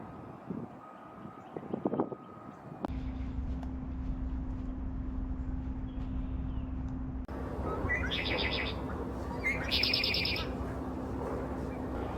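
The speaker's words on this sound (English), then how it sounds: "you can hear something so simple like the call of a red-winged blackbird" A red-winged blackbird calls at a wildlife refuge in a few short bursts, heard over steady background noise from a nearby truck engine and construction, with a reversing beep tone mixed in.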